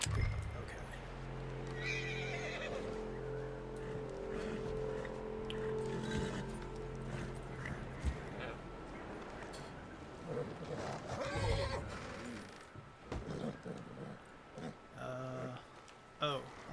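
A horse whinnies loudly and its hooves clop in Red Dead Redemption 2, with mechanical clicks and a voice calming the animal over the later part.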